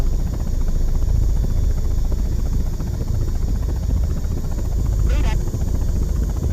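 Attack helicopter from the game Impact Storm heard as a steady, loud rotor and engine drone filling the whole stretch, with a brief higher whine near the end.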